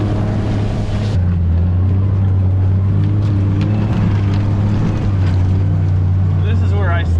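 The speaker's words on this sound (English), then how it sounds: "I already got the tractor started, the loader tractor." A loader tractor's engine is warming up in cold weather, giving a steady, close, low rumbling drone that holds evenly from start to finish.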